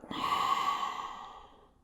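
One soft exhale during a yoga session, a smooth breathy rush that swells briefly, then fades out over about two seconds, close and quiet with no talk.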